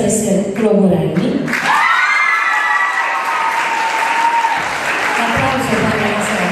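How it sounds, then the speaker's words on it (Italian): Audience applause fills a school award ceremony for a sport and integration contest, loud and sustained throughout, with some cheering and a presenter's voice over the clapping at the start. "Applauso per la sera."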